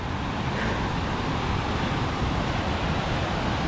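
Small waterfall at a mountain creek crossing on a backpacking route, a steady broadband rush of falling water, loud and close, constant with no breaks and no voices.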